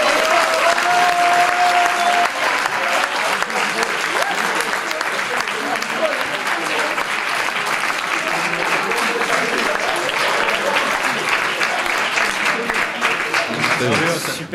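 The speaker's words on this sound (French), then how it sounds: "je vous demande un tonnerre d'applaudissements pour les futons futés." Thunderous applause from a crowd at a university innovation competition, loud dense clapping sustained for about fifteen seconds with faint voices mixed in.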